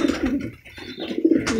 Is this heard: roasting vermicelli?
no